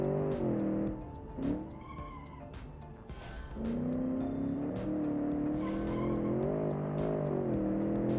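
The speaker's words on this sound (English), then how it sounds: "The engine is so torquey." Modified eco SUV in a car racing video game: a torquey engine drone climbing and dropping through gears, broken by sharp bursts of tire squeal and skidding, loud and close, with no voices.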